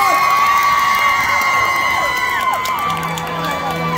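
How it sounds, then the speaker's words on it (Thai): A lively crowd cheers, whoops and claps to welcome performers on stage at a Channel One 31 event at Central Nakhon Pathom, a dense, steady roar of voices with shouting children throughout. "ขอเสียงปรบมือต้อนรับน้องแนทอนิพรพี่โตโน่ภาคินพี่ตรงๆและพี่กันนภัทร"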